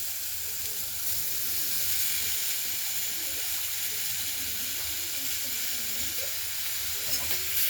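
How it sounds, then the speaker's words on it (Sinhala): Cleaned shrimp hitting a hot pan for a shrimp curry, producing a loud, steady sizzle and hiss that runs unbroken for several seconds close up, with no talk over it. "දැන් අපි හොදලා පිරිසිදු කරගත්ත ඉස්සෝ ටික එකතු කරන්න තමයි හදන්නේ"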